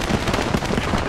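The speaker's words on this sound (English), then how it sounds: "Did the tank just blow up?" A tank blows up in the WWII shooter Post Scriptum, a brief, loud burst of crackling, rumbling noise that fills the whole moment without letting up.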